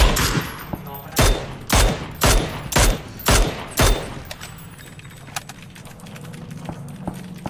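Gunfire in the PUBG battle game: a rapid burst of six sharp, loud shots at an even rhythm, followed by quieter background noise and faint distant sounds.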